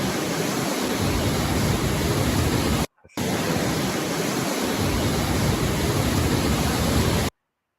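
Loud, constant roar of rushing whitewater on Slab Creek, broken by a brief silent cut before the churning rapids resume and then stop abruptly.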